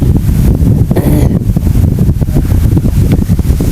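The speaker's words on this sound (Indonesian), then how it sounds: "kalau anginnya kencang sekali seperti ini tuh agak susah" Loud, buffeting wind blasts hitting the microphone outdoors at a PCP air rifle long-range shooting test, rumbling and gusty throughout, with no speech.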